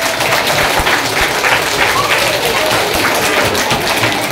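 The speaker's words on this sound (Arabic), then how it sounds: "صفق صفق صفق." Children at a school party for Children's Day in Sidi Lakhdar, Ain Defla, applaud together, a dense continuous patter of many hands clapping close by, steady throughout with voices mixed underneath.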